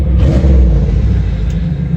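A 1993 Pontiac Trans Am engine rumbles loud and close, a deep running drone that eases slightly toward the end as it is shut off.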